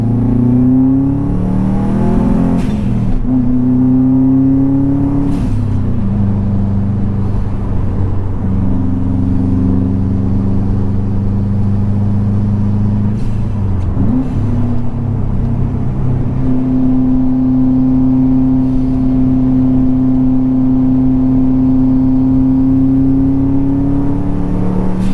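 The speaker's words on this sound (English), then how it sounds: "accelerating made my car cool down" A Subaru WRX engine hums and climbs through revs inside the cabin, pitch rising and dropping as it shifts and accelerates, loud and continuous throughout.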